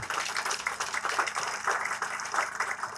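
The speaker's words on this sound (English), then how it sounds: "please give a round of applause for this entire event here today" A live audience at a Nigerian military event unveiling indigenous attack drones and bombs applauds together, a steady dense wash of clapping that holds for the full three seconds at moderate loudness.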